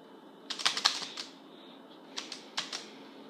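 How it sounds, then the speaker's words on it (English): Typing on a computer keyboard during Gmail setup on an Apex device, two short bursts of crisp, close key clicks separated by a brief pause, with no talk. "I'm just gonna type this in."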